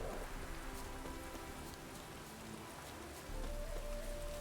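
Steady rain in The Witcher 3 patters on surfaces, a dense, even hiss with soft low tones underneath and no voices.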